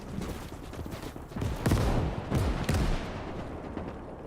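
Anti-tank rifle shots and other gunfire boom repeatedly in a World War II battle game on the Eastern Front, with heavy low blasts clustered in the middle over a constant dense battlefield roar.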